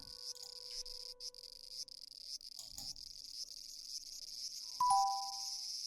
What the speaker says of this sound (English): As the cicadas in the trees by the garden cried